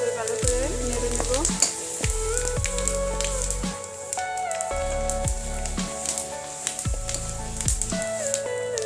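Buffalo meat sizzles loudly in a pan with cumin seeds, a constant crackling fry broken by regular scraping stirs of a spatula every second or so, close and alone without talk.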